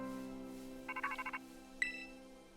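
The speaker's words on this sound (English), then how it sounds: "Phone call." Electronic phone ringtone in the Pokemon Violet video game, a short burst of rapid trilling beeps followed by a single chime, over a soft sustained musical background.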